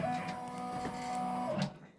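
A Brother embroidery machine stitching an Easter tiling scene gives a close, steady mechanical whir with a rapid needle rhythm and humming motor tones, then cuts off abruptly near the end.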